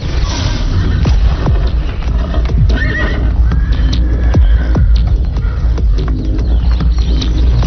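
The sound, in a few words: horse neighing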